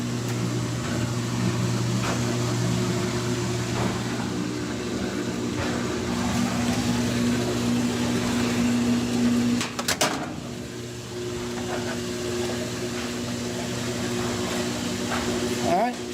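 GE top-load washing machine draining water after a sock was cleared from its drain, a steady pump hum with tonal whine and gurgling flow running continuously, briefly disturbed by a clunk midway.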